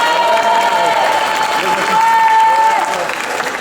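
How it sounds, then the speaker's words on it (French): An audience at a street protest action in Besançon claps loudly and continuously for a punk performer, dense close applause with a few cheers and a whistle rising above it. "On l'applaudit bien fort, s'il vous plaît."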